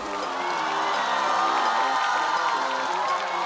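An audience at a stand-up comedy show applauds and cheers steadily, a dense, loud wash of clapping and shouts holding evenly throughout with no break.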